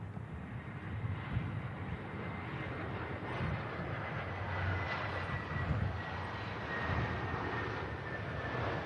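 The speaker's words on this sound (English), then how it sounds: "Your old A400 Atlas going over the top" An Airbus A400 Atlas military transport passes overhead near Manchester Airport, with a loud, steady engine roar that swells slightly and holds for the whole stretch, with no one talking.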